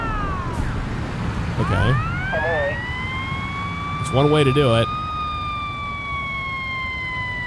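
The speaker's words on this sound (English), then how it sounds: "we're going to turn our siren on to back into the" Fire truck siren wailing with rising and falling sweeps in Firefighting Simulator: Ignite, a Rosenbauer engine backing up on a road, steady and fairly loud throughout with brief speech over it.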